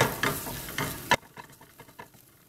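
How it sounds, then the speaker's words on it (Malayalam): Turmeric is stirred into a sizzling mixture in a pan over low flame, starting with loud scraping strokes over frying crackle, then settling into a softer, steady sizzle with light spoon taps. "ഒന്നുകൂടി നന്നായിട്ട് മിക്സ് ചെയ്യുക."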